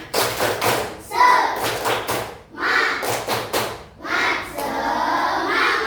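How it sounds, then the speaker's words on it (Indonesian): A class performs a rhythmic clapping chant, bursts of loud unison claps in quick patterned groups with children chanting between them. "kita tepuk semangat dulu. Siap? Tepuk semangat."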